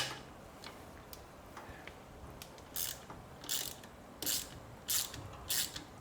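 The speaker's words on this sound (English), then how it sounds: "Next I'm going to remove the Kickstarter idler gear." Small metal parts click and ratchet as a kickstarter idler gear is worked off a 2017 KTM engine during a bottom-end teardown, producing faint close ticks followed by a series of sharper scraping clicks in the latter half.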